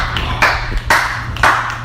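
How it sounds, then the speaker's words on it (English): Three sharp, close hand claps land at a steady pace over a low background hum, each a short crisp smack with quiet gaps between. "Everyone clap."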